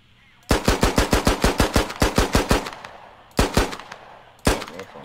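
Rapid pistol fire in the Squad shooter game: a fast run of about a dozen loud, close sharp shots, then a pause, a short second burst and a final single shot, with no talk over them.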